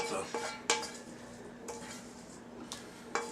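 Metal utensil scraping cooked ground beef around a pan for beef nachos, with several sharp clanks and scrapes at irregular intervals over a steady low background hum.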